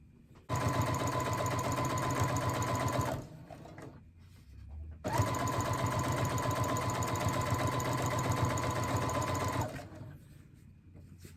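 Sewing machine running a rolled hem along poly cotton fabric, two steady, loud bursts of rapid stitching of about three and four and a half seconds, separated by a short pause.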